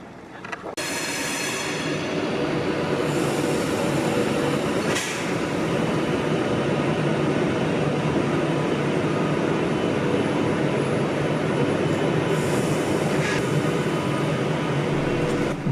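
A London-bound Pendolino electric train passes through the station at Carlisle as a loud, steady rail roar and rumble that fills the whole sixteen seconds. It sounds close, with brief higher rattles and no voices.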